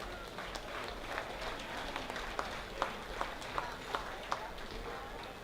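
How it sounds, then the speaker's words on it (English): Audience at a county fair swine show claps for exhibitors leaving the ring, a steady wash of moderate applause with a few sharper claps standing out, set in a large open arena. "Let's give them one more round of applause as they exit"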